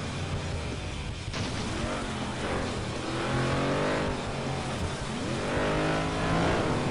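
A race car engine in the FlatOut video game drones continuously, its pitch climbing and dropping through gear shifts as the car accelerates, with a faint tire squeal, loud and close throughout.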